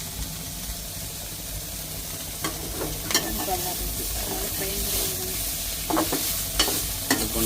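Tuber and curry leaves fry in an oiled pan at home, with a steady sizzle and occasional scrapes and clinks of stirring, close up and with no talk.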